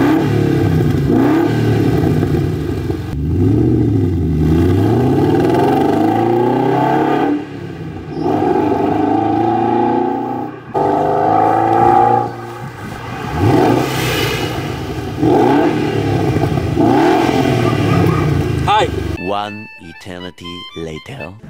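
A BMW 7 Series with a new exhaust revs loudly and repeatedly, deep rising and falling engine swells close by, pausing briefly between pulls, with someone speaking over parts of it.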